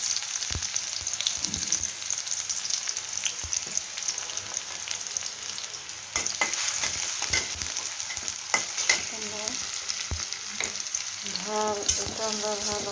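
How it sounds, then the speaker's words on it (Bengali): Chopped onion fries in soybean oil for a cauliflower bhuna, a loud steady sizzle with frequent spatula scrapes and stirring clatter, close up and without talk. "এটা গরম হয়ে আসলে দিয়ে দেব পেঁয়াজ কুচি"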